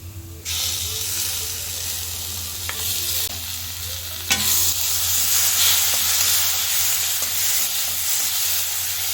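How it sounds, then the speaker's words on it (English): Tomato puree poured into a pan of sizzling onions and spices, setting off a sudden loud, continuous hiss and sputter that holds steady, with a few utensil knocks near the start. "So now that the spices and onion are doing good, let's add the tomato puree."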